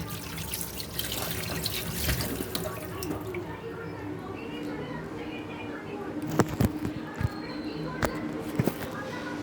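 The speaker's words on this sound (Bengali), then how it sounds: "এবার আমরা একটু ধুয়ে নেব, ভালো করে ধুয়ে নেব।" Cut lemons washed under a running kitchen tap, with a steady rush of water and scattered splashes and clatters, heard up close under a person talking.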